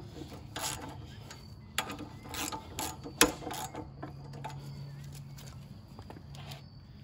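A ratchet clicks and rasps in short irregular bursts as a bolt is loosened from the fuel tank of a 5 hp Briggs & Stratton leaf blower, with metallic knocks and a low hum throughout.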